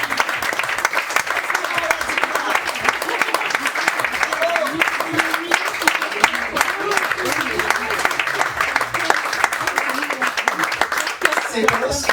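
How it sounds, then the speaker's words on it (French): A live comedy show audience applauds warmly, a thick, even patter of many hands clapping at once, steady and close for the whole stretch, with a few voices faintly audible beneath. "c'est vous qu'on devrait applaudir"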